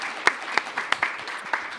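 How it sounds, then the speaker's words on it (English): Brief applause from an audience at a panel discussion: a soft patter of clapping with several louder claps close by, lasting under two seconds. "we can give a round of applause for that response as well"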